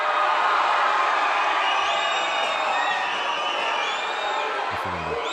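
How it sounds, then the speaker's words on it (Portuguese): Grêmio supporters in Porto Alegre greet Luan's arrival with a steady roar of applause and shouting, a dense crowd noise with whistles and voices rising above it, holding loud throughout. "com o torcedor ali aplaudindo, gritando o nome dele"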